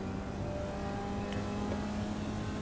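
A Formula Vee race car engine in iRacing at Rudskogen Motorsenter drones at steady high revs, a buzzy continuous tone under constant throttle.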